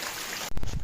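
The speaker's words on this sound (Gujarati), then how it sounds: "વરસાદ આવે છે બહુ" Steady rushing hiss of rain, then a sudden louder burst of pattering and splashing toward the end, close by.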